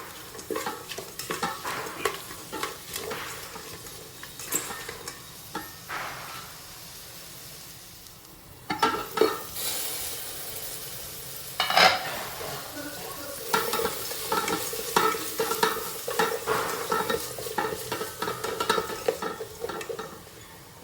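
A small sliced onion sautés in a pan for matar pulao, sizzling softly while a spoon repeatedly scrapes and stirs, with irregular clinks against the pan and louder stirring bursts toward the end.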